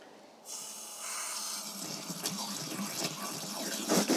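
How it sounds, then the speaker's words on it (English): Water pours steadily into a clay olla pot buried among mulched tomato plants, a continuous close gushing and trickling fill that grows slightly louder toward the end, with no talking. "So there is my second Olla pot, and now to fill it."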